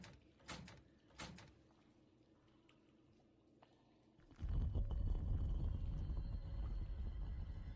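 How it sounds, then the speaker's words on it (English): A door in a video game opens with a loud, heavy low rumble that starts suddenly midway and keeps going, after two earlier thuds and a quiet pause. "A door."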